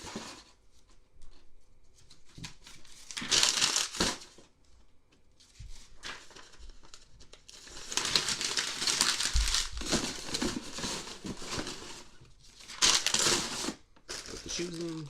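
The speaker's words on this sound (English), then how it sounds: "Filler paper in the bottom." Filler paper crumpled and stuffed into the bottom of a shoe shipping box, crinkling in bursts of close, loud rustling with quieter pauses between.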